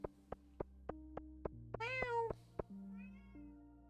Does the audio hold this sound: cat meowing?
yes